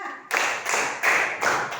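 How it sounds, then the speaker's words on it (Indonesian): Children in a classroom clapping a counted rhythm, sharp bursts of group clapping in four distinct pulses after a short quiet start, close and loud. "tepuk 1, tepuk 2, tepuk 3, tepuk 4."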